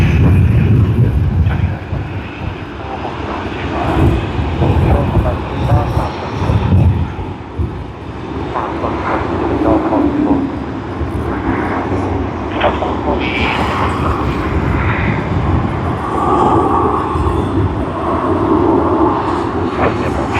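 Airliner engines roar steadily at Sydney Airport as a Qantas jet in retro livery moves past, a loud continuous rumble and whine with a voice talking over it throughout.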